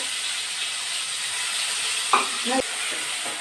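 Steady sizzling of onions, ginger and garlic frying in a pan, with a few brief stirring clatters partway through.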